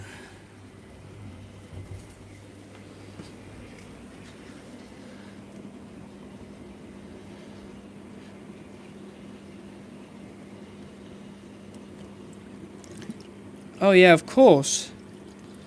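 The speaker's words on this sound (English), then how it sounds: "Of course, drain all the water out." Water drains out of an aquarium in a fish room as a faint, steady trickle under a low background hum, with someone briefly speaking near the end.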